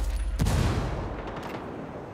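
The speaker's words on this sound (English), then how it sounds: "Under a lot of fire over here." Gunfire in the Ghost War multiplayer video game, a loud burst of rapid shots and booming impacts up close, with another sharp report at the end.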